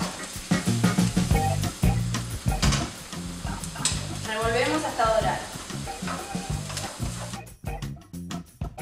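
Chopped onion, scallion and crushed garlic browning in a pan give a steady close sizzle, with repeated stirring scrapes and clacks throughout, ending abruptly near the close.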